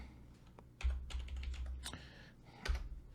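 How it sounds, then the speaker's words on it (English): Typing on a computer keyboard, quiet and close, with a few scattered key presses and a couple of heavier thumps, no talk over it. "If I can type correctly"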